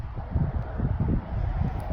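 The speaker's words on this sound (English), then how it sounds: "It is windy today." Wind blows against the microphone in low, uneven rumbling gusts, fairly close and continuous.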